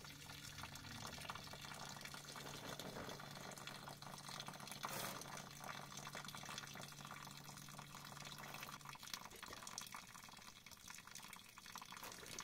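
Water running through newly fitted PVC plumbing for a wall-hung toilet in a crawl space, a steady faint trickling flow with occasional drips, continuous and somewhat distant with no talking.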